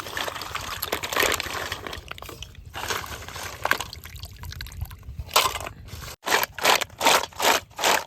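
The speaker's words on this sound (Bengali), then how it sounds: "কি সুন্দর করে ধুইতেছি।" Discarded seashells are washed by hand in water to make lime, giving close sloshing and gritty scraping, then a run of regular rhythmic rubbing strokes toward the end.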